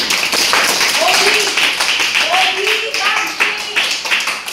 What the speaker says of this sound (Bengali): সে একটা বিশেষ হাততালি